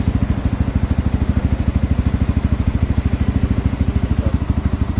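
A Yamaha WR 155 VVA motorcycle with an overheating problem idles steadily, its single-cylinder engine thumping in a fast, even pulse that stays loud and close, with no voices over it.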